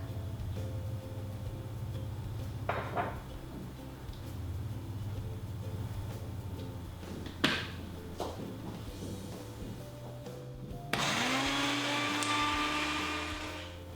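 A blender mixes dry dog-cookie dough with vegetable oil, whirring steadily with a motor hum and a few clunks and bumps, then the pitch rises and the whine grows louder near the end.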